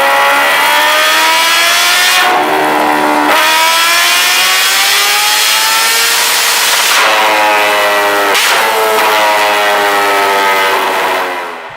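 A supercharged sport motorcycle revs hard and loud, its pitch sweeping upward through several rising pulls with short drops between them, while a high supercharger whine spools up over the engine roar.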